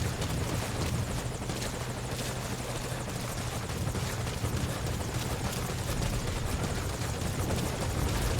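Helicopter rotor and engine roar steadily and loudly throughout, a continuous close thrum as the chopper arrives at a landing zone in Metal Gear Solid V: Ground Zeroes, with no talk.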